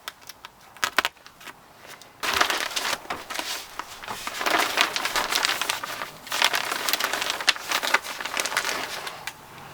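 A bag of compacted loose-fill insulation is cut and split open with a utility knife, giving close rustling, crinkling plastic and fibrous tearing that swells after a quieter start and continues in irregular bursts, no talk.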